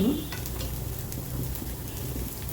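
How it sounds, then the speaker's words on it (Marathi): Sabudana and potato appe fry in an appe pan while being flipped, a close steady sizzle with light scraping taps near the start and no voices. "आपल्याला थोडे पलटून पलटून करून घ्यायचे आहे ज्या बाजूनी झालेले नसतील त्या बाजूनी असं ठेवून आपल्याला ते छान खरपूस करून घ्यायचे आहे"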